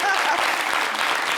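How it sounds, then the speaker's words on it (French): Studio audience at a talk show applauding, a dense, even wash of clapping held steady for a moment with voices mixed in beneath. "On applaudit."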